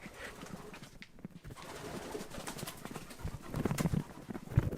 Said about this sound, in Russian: Нынешними смотрителями этих гробниц стали голуби.